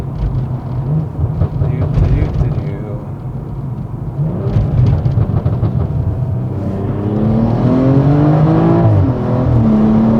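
BMW F30 340i sedan engine pulling hard from second gear, its drone rising in pitch with a gear change midway, loud and continuous under someone talking over it.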